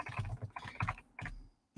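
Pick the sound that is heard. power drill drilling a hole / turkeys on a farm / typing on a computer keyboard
typing on a computer keyboard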